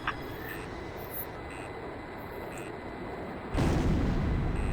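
Aircraft shot down at the end of an aerial dogfight in the video game Ace Combat 5: a steady jet engine roar with faint beeps, then a sudden loud explosive burst that swells and holds near the end.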